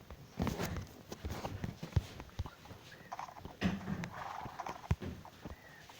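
A video game horse's hooves clip-clop at an unhurried walking pace, several steps close by with an uneven rhythm and no talk.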